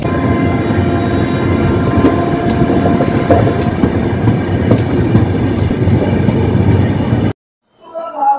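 The Howrah–Mumbai CSMT Superfast Mail passenger train runs along, heard from inside a two-tier AC coach as a loud, steady rumble with rhythmic clickety-clack of wheels over rail joints, cutting off abruptly near the end.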